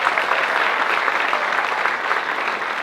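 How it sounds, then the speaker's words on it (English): Loud, dense applause from an event audience fills the whole stretch, steady and sustained with no voices breaking through. "huge round of applause"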